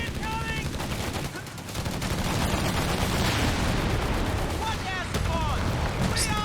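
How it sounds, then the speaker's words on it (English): Artillery barrage in Company of Heroes 3 during a 2v2 match, dense continuous rumble of gunfire and explosions with rapid bursts, loud and sustained, with a commentator talking over it. "That's the captain's artillery coming down."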